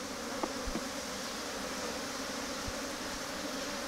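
Honey bees buzz around a hive during requeening, a dense continuous drone from many nearby insects with a few faint knocks and no voices.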